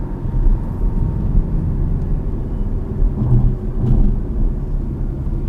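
A 2019 Porsche Cayman 718 cruises at about 40 mph in a high gear, heard from inside the cabin as a continuous low engine and road rumble with no speech.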